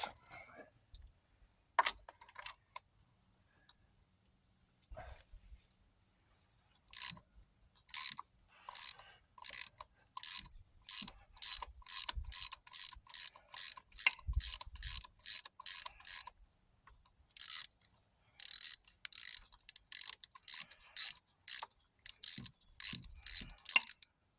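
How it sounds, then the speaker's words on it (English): A ratchet with a spark plug socket works loose a spark plug on a Jaguar XKR engine: quiet close clicking in quick rapid runs, pausing between strokes and becoming steady, regular bursts later on. "let me get my spark plug socket and we'll take it out"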